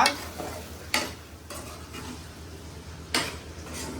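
Onions frying in a pan with curry leaves for a chicken fry, a steady sizzle broken by a few sharp utensil scrapes and clinks as they are stirred, close and moderately loud with no talking.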